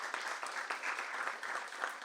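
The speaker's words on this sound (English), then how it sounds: "I'm going to give her a round of applause." Dense, steady clapping from an audience at a bookstore book event, a brief burst of warm applause heard on its own.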